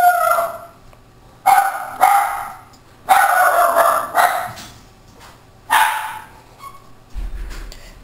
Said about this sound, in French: Donc désolé pour le petit chien